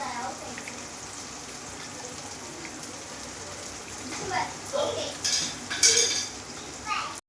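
A spoon scrapes and stirs through a thick fish curry mixture of tomato, onion and ground chilli in a pan, soft wet clatters growing louder toward the end.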